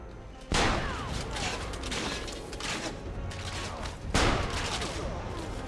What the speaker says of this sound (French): J'ai des coups de canon.